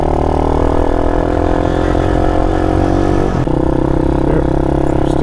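A Honda Monkey or Grom clone motorcycle engine runs on a casual ride, droning steadily and loudly up close with a slight pitch shift midway, and no talking.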